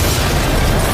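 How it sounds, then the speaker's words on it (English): A railgun blast and explosion in the video game Just Cause 4 roar as one loud, dense burst of noise that fills the whole second without a break. "Right now we're using the railgun, one of the many new weapons in the game."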